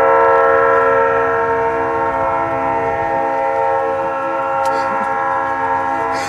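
Norfolk Southern RoadRailer train passing close at Hannibal, Missouri, its horn blaring a loud sustained chord throughout over rolling rail noise, with a few brief clanks near the end.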